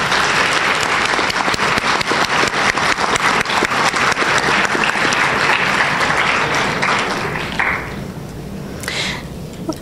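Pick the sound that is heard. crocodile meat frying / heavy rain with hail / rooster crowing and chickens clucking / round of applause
round of applause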